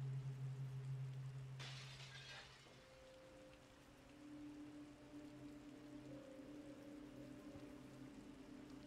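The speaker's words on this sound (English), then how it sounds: "He heard glass break" A brief crash of shattering glass in the Resident Evil 2 video game, sharp and fairly faint, set against quiet ambient tones and a low hum, no talking.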